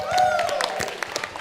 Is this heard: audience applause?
yes